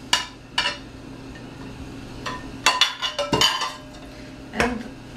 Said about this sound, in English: Now you can add all the rest of ingredients. Just mix them well inside.